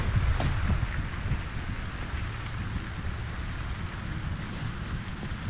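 Steady outdoor wind buffeting the microphone on a disc golf course, a dense continuous rumble and whoosh with no voices.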